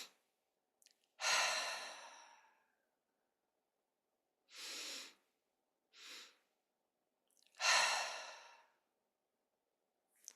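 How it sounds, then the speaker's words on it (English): Slow deep breaths in a calming breathing exercise: four long, close breathy inhales and exhales separated by silent pauses, with no talking. "So we'll inhale."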